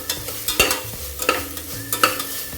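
Long-sliced onion is stirred into a sizzling pan for a cauliflower and potato curry, with a spoon scraping and tapping in a steady rhythm of strokes over a constant frying hiss, close and fairly loud, with no talk.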